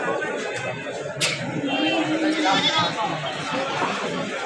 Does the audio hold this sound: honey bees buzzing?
no